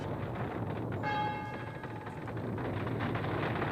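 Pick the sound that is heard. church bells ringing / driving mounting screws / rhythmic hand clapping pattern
church bells ringing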